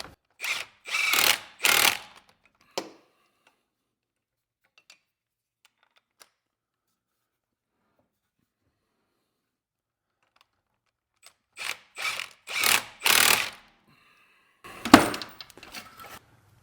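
A ratchet tightens bolts during a Jeep Liberty starter replacement, heard as two separate bursts of quick clicking strokes with near silence between them and a louder clank at the end.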